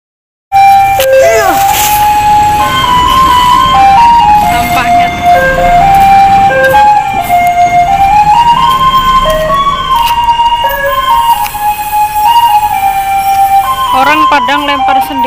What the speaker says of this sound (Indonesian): ini mobil sampah pertama itu bagian pembuangan sampah